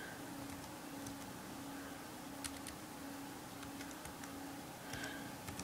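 Typing on a computer keyboard, faint scattered key clicks over a low steady hum, no talking.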